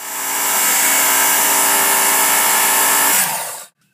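A steady, loud abrasive whir from a powered sharpening tool polishing the edge of a Ghanaian sword blade, holding constant for about three seconds before winding down and cutting off abruptly.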